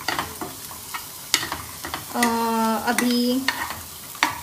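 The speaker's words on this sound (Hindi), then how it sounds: "ये है कांदा जो फ्राई हो रहा है" Chopped onion fries in a pan with red chutney and very little oil, giving a soft close sizzle broken by scattered clicks of stirring and a brief squealing tone partway through.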